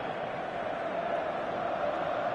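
In eFootball a stadium crowd fills the air with a steady, dense roar of massed voices, constant and broad without distinct chants or individual words.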